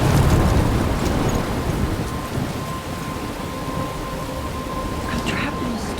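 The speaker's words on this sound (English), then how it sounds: "I'm trapped in a storm?" A thunderstorm in the Life is Strange video game: dense, loud rain and a deep rolling rumble of thunder that sustains throughout, with no voices over it.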